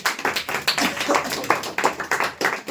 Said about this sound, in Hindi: ताली दो पहले